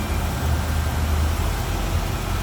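Pusher fan on the aluminum radiator of a 1957 Chevrolet Bel Air two-door hardtop blowing steadily while its 350 V8 idles, a continuous close whoosh over a low engine hum.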